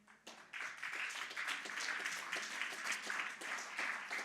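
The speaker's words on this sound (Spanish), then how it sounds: "Un aplauso al Señor." A church congregation applauds at an evangelical service, starting quietly and swelling after a moment into a sustained, fairly distant patter of many hands clapping, with no voice over it.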